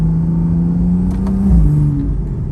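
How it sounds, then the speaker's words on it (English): A rebuilt BMW M135i accelerates hard in Tiptronic mode, its loud engine note climbing steadily, then dipping briefly at a gear change before rising again, heard close from inside the car. "So I'm gonna put in Tiptronic mode, go low on the gear. Just see how the car goes through the gears."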